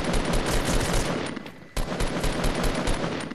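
Rapid bursts of gunfire in the video game Fortnite rattle close and loud across the whole stretch, with one brief pause midway.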